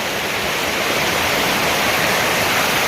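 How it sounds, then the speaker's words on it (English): A small river flowing near a waterfall along the Appalachian Trail makes a loud, close, steady rushing hiss with no breaks and no voices. "here's the little river. I bet you it flows into the falls."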